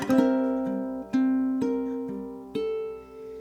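A short plucked ukulele phrase of four notes, each picked cleanly and left ringing before the next, the last one fading out.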